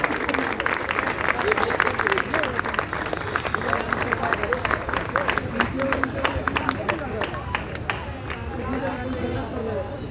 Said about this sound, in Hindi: आदरणीय चंद्रवीर जी को तालियों की गड़गड़ाहट से आमंत्रित कीजिए